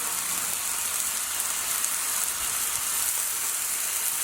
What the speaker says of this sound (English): we got the black stone on low heat. Just gonna start out with the bacon. Let that cook up a little bit